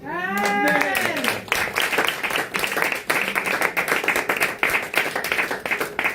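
A church congregation claps and cheers in acclaim of Jesus, a dense, steady burst of applause with raised voices over it, after a short sung or called note at the start.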